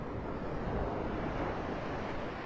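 Ocean surf washing steadily onto a Southwest Florida beach at Delnor-Wiggins as the tide comes in, a continuous broad wash of waves with wind rumble and no voices.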